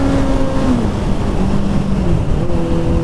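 A Kawasaki ZZR1400 (ZX-14R) set to low power mode pulls away from 50 with a loud, steady engine drone close to the rider, its pitch shifting slightly as it accelerates under heavy wind rush.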